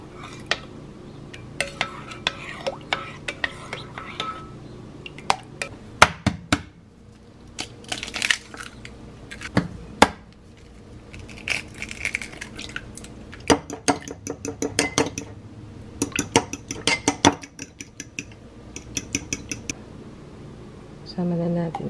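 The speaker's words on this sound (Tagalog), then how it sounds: "Haluin lang natin." Cassava cake mixture being stirred in a bowl produces bursts of rapid clinking and scraping of a utensil against the bowl, with pauses between rounds and a voice now and then.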